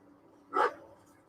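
A dog in The Dark Knight gives a single short bark, moderately loud, in an otherwise quiet film scene.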